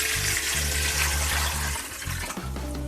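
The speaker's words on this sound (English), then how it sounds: "Add some water." Water is poured into a pot holding rinsed chicken feet for Jamaican soup, a steady splashing rush over a few seconds, with a low rhythmic hum running underneath.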